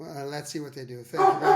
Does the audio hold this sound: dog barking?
yes